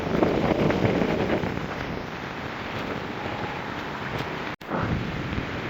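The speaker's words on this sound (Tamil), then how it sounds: "எவ்வளோ வேகமாக காட்டு அடிச்சு கொண்டு இருக்கன்னு சொல்லி" Strong storm wind in Jaffna roars and buffets the microphone in a steady, heavy rush, with one brief sharp dropout.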